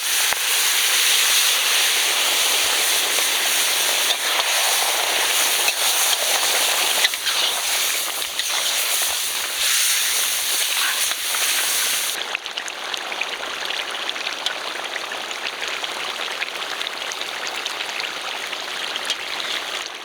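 Water in which mutton was cooked pours into a pan in a steady, rushing stream, cooking a naati-style dry mutton. The flow stays loud and even, then thins and softens toward the end.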